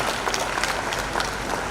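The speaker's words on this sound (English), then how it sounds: "Please clap for her." Clapping from the audience at a university graduation ceremony, a short, fairly soft burst of steady hand claps.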